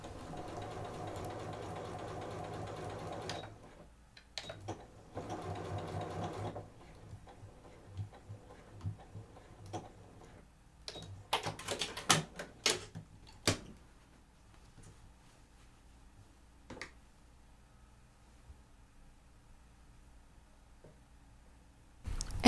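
A sewing machine runs a straight stitch with reverse backstitching at the seam ends, giving short bursts of quiet rapid ticking separated by pauses, with sharper clicks and knocks in between.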